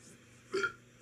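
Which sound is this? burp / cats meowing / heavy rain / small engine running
burp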